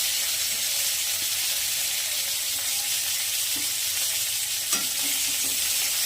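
Rui fish pieces frying in oil in a pan, a steady loud sizzle with faint scraping and taps of a spatula as a stuck piece is pried loose and flipped.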